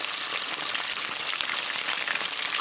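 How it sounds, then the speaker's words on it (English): Chicken strips deep frying in hot oil make a dense, steady sizzling hiss, loud and close, crackling continuously without pause and with no one speaking. "And place it back into the oil."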